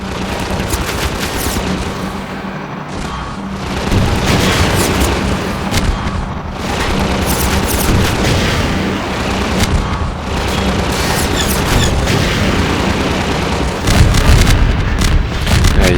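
Rocket launcher fire and explosions in the video game Half-Life 2: Lost Coast, dense booms and gunfire rolling continuously with heavy low rumble and repeated loud blasts, no clear talk.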